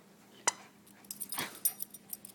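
A dog growls and yips while tugging at a ball during play, with a sharp bark near the start and then short snarling bursts. The sounds are close but fairly quiet.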